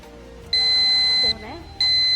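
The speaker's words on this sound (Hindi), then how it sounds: "फिर आपने बजर दबाया है" A game show quiz buzzer sounds during a Ramzan special TV transmission: two loud, steady electronic tones, one long and a second starting later, each cutting off abruptly, with faint studio sound between them.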